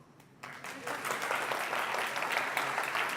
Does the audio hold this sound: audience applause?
yes